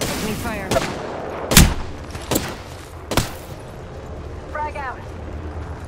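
Gunshots ring out in Apex Legends, a handful of sharp, loud single cracks spaced irregularly over a few seconds, with voices chattering between them.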